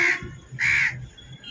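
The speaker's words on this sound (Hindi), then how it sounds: "ये देखिए कौवा, ये सब टाउन में नहीं मिलता है।" Crows in a village beside a road and railway caw twice, loud and close, with two harsh separate calls and no other sound.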